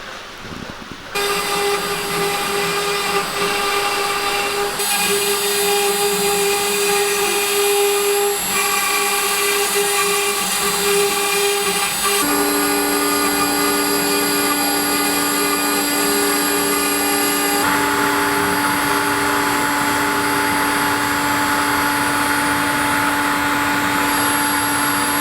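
A CNC router running a MASSO controller cuts far too deep and lumpy, giving a loud sustained whine whose pitch steps up and down as the spindle and feed change, with no voices.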